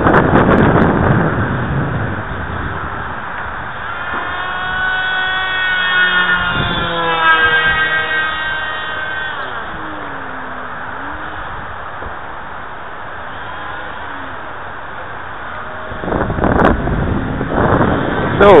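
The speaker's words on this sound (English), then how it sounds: "this wind is really blowing today here tonight, this evening" Strong gusty wind roars steadily against the microphone at an outdoor RC flying field during an F-22 BlueCore prop jet flight, with a faint engine whine rising and falling in the middle and louder buffeting near the end.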